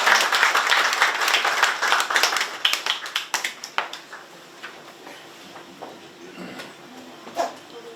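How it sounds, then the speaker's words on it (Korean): A large audience at the 17th May Mothers Award ceremony breaks into a big round of applause after a song performance, dense clapping that thins into scattered claps and fades, with a brief burst near the end. "좋은 노래로 우리 가슴을 촉촉하게 적셔주신 두 분의 가슴있게 큰 박수 부탁드립니다."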